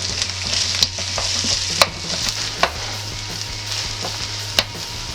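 A cheddar and mashed potato filling is stirred in a hot pan, with a constant sizzle and repeated scraping knocks of the spoon at an uneven rhythm.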